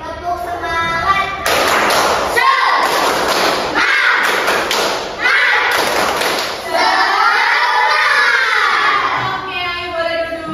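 Schoolchildren repeat an Indonesian spirit clap in class, sending rhythmic bursts of clapping and desk-like thuds through the room. Excited voices call out between and over the patterned beats.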